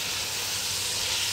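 Spices stirred into a hot cooking pot for a lamb and peanut stew, giving a steady bright hiss of sizzling that holds evenly through the short moment, with no voices.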